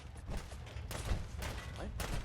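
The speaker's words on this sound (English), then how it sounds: "Opening fire." Gunfire in Fallout 4, played in survival mode, comes as several broadband bursts of shots amid game ambience and background noise, steady and fairly loud for about two seconds.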